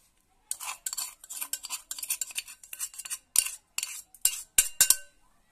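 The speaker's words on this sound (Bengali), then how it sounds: "এই কাপের পরিমাপ করে চিনিগুলো আগে ঢেলে দিচ্ছি।" Ground sugar poured into a measuring cup for a cake: a run of short, gritty granular bursts with a few sharper clicks, close and alone, ending in quiet.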